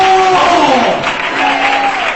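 A church congregation applauds loudly and continuously together, with tonal voices of a preacher and crowd rising over the clapping.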